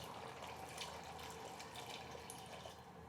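About 300 ml of water poured into a cooking pot of mutton pulao, a soft, steady splashing trickle that runs continuously and fairly quietly, with faint kitchen background.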